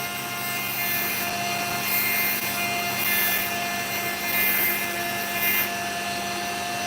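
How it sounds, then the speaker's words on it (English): A Dremel rotary tool grinds a piece of opal, giving a steady high-pitched whine with a vibrating buzz that holds level throughout, with slight surges in intensity every second or so. "I think it's the vibrations are really quite nasty from the Dremel."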